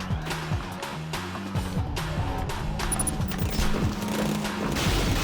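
Assault rifle fire in the video game Rengoku: The Tower of Purgatory rattles in rapid, repeated bursts, loud and close, over a pulsing electronic music track.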